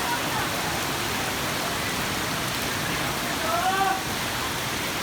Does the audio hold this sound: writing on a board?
no